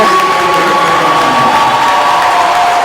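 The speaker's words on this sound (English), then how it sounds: "standing ovation from the crowd" Crowd at a women's college basketball game rising to applaud departing seniors, a loud steady wall of cheering and clapping filling the gym without letup.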